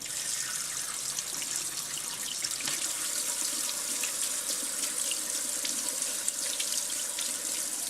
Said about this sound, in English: You want to rinse them with cold water.